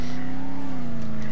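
A car engine driven in the video game Dead Island hums loud and close in a steady tone, the pitch dipping slightly partway through.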